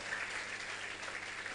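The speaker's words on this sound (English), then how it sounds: "Keep clapping until he gets to the microphone." An audience at the Young Techies Festival 2022 claps to welcome a speaker to the microphone, a steady wash of applause that sounds fairly distant and soft and never breaks.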